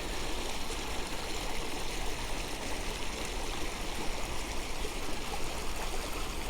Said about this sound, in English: Nice little bubbling brook.